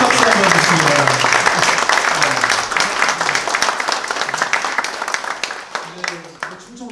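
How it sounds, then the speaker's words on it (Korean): Audience applause at a policy forum on the animation industry, steady clapping from a hall crowd with a voice talking over it, tapering off toward the end. "큰 박수 한번 주시기 바랍니다"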